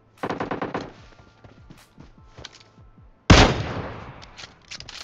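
Gunfire in the video game PUBG Mobile: a rapid burst of automatic shots opens, then scattered single cracks follow, and a loud blast hits midway before further shots trail off, with no one talking.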